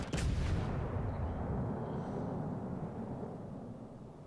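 A single heavy naval gun salvo from a warship in a World War II-era naval combat game, one loud booming blast at the start that rolls off into a long rumbling decay.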